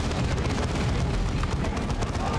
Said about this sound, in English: A lot of gunfire coming from there.